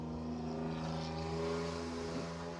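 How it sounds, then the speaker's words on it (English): Steady traffic roar from a very busy road close by fills the whole stretch, a continuous low engine drone with no pauses. "Don't mind the noise. I live right next to a very busy road."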